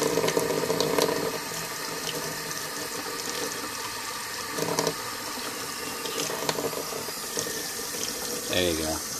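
Water runs steadily from a tap in a new home while a newly working water heater is tested, a continuous close hiss with slight surges and a brief voice near the end.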